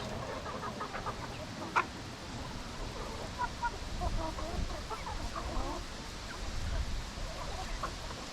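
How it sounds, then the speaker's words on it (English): Chickens, including young pullets and roosters, cluck and murmur in a busy coop, with scattered calls and one sharp squawk over a low background. "Got several pullets in here. Several roosters too."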